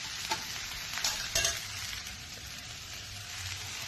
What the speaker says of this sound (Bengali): আর এবার আমি এখানে ডিমগুলো দিয়ে দেব।